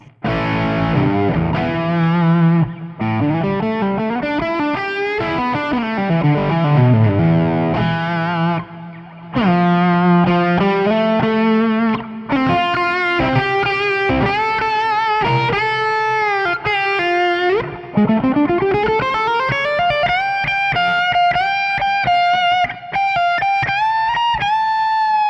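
An electric guitar plays a solo through a captured Bogner amp with drive, reverb and delay, with sustained distorted notes, bends and fast runs ringing out loud and alone for about 25 seconds.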